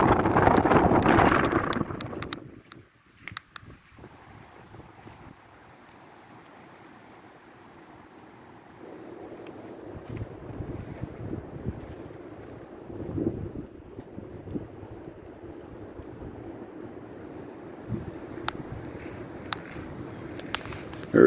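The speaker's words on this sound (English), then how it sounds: "the wind is crazy." Strong wind blows outdoors over a home compound, hitting the microphone in a loud roaring gust at first, then easing to a lower, uneven rush with intermittent buffeting and rattles.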